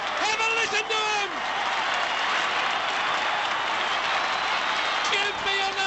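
A large football crowd at an Essendon Bombers versus North Melbourne Kangaroos AFL match roars and applauds in a sustained wall of cheering, with a radio commentator's voice running over it near the start and end.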